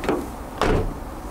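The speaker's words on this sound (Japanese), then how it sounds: "ドアの開け閉めする感じももうペナペナでですね" A light car door of a Subaru Impreza WRX STi Spec C with a weight-reduced thin door opens and shuts, two quick thin clunks in succession, close by with a hollow, tinny quality.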